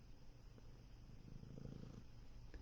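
A small kitten purrs close by in a steady, low rumbling rhythm that holds for a few seconds with no talking over it.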